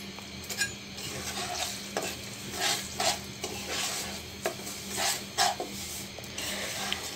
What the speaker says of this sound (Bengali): সুজিটা আমি ঘি আর তেলের সঙ্গে ভালো করে ভেজে নেব।